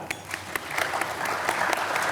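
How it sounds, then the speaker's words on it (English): An audience at a Nudgestock conference session produces a soft, quiet patter of hand claps that builds slightly and stays low and steady. "very quiet hand clap."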